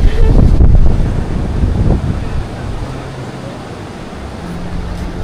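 Steady wind blows across Boracay beach, rumbling and buffeting the microphone, strongest in the first couple of seconds and then easing to a constant breezy roar.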